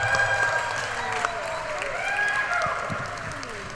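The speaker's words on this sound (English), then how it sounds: "Okay, you can give him a round of applause." An audience at a gubernatorial forum debate gives a sustained round of applause, a dense, steady wash of clapping that fades slightly toward the end, with a voice faintly heard over it.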